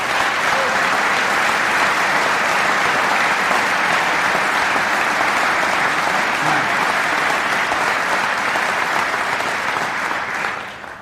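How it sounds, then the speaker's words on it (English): A legislative chamber audience gives sustained, dense applause for a 1997 presidential speech to the Michigan State Legislature, loud and steady throughout before tapering off at the very end. "Now that you've clapped"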